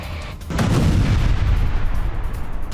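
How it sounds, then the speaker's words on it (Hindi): A deep, rumbling roar erupts after a brief quiet moment and sustains loudly, like a powerful launch or heavy blast echoing outdoors, as Russian Kalibr cruise missiles are fired during an attack on Kyiv. "विजुअल देखिएगा जरा कैसे मिसाइलें फायर हो रही है"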